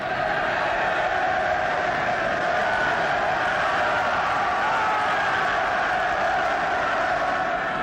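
A large crowd of sailors cheers and shouts without a break as two wartime ships pass close by, a dense, continuous roar of many voices.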